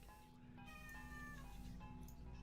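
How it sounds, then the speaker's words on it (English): A cat meows repeatedly for attention, drawn-out tonal cries close by over a steady low hum, with no talking. "my cat is crying for my attention"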